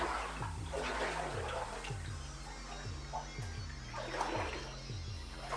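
Water splashing and sloshing inside an abandoned gold mine tunnel with timbered ceiling supports, repeated wading splashes and drips echoing close by over a steady low hum, with no talk.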